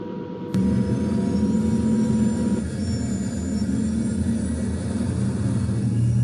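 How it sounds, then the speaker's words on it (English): An airliner rolls for takeoff in the Cabin Crew Simulator video game, a steady loud engine rumble with a rising whine that starts abruptly and holds, and no talking. "Right, we're taking off, take off."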